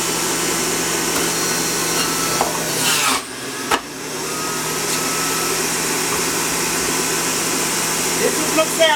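A juicer grinding celery with a continuous high whirring motor hum, briefly cutting out and restarting, while a person talks nearby.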